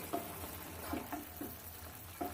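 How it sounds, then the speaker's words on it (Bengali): Bottle gourd leaf and vegetable chorchori being stirred in a pan, a soft moist simmering hiss with scattered clinks and scrapes of the spoon against the metal, close and fairly quiet, no speech. "ঢাকনা খুলে একবার চচ্চড়ি সবজিগুলোকে নাড়িয়ে দেব"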